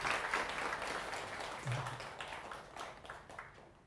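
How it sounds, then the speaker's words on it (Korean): Applause from an audience at a Buddhist lecture welcoming a visiting professor, a dense patter of many hands that swells early and gradually thins out, moderately near. "큰 박수로 환영합시다"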